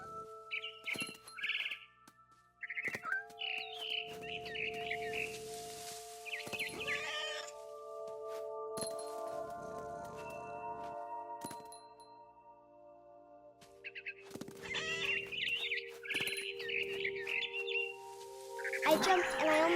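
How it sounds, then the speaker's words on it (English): Barn swallow chirps in the video game What Remains of Edith Finch, repeated bright tweets and calls in bursts over a soft sustained musical background, with other animal-like cries mixed in. "Then I heard chirping outside my window. It was a barn swallow going back to her nest."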